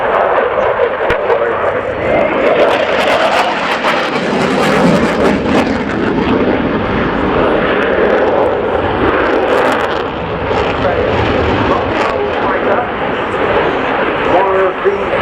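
Czech Air Force Saab Gripen fighter jet flying a display at the RIAT air show at Fairford, a loud continuous jet roar that swells and holds for the whole stretch, with an announcer's voice speaking over it.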